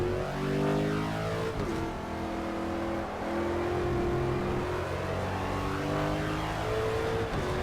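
Aston Martin engine in the Project CARS racing game, a sustained loud drone that climbs through the revs with brief dips at gear changes, no voices over it.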